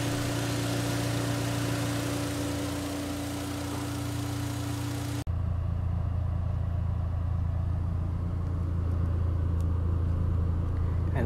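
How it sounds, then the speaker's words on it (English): A Wuling Almaz turbo car engine idles while warming up to running temperature, a steady low hum; partway through the sound shifts abruptly, then the engine keeps running evenly and close by. "now we can start up the car and let it warm up to normal running temperature"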